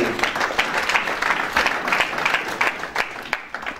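Church congregation applauding together, a dense, fairly loud round of clapping held steady for a few seconds and then thinning slightly.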